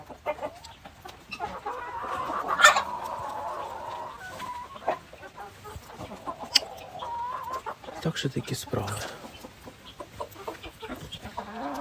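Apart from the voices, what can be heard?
hens and roosters clucking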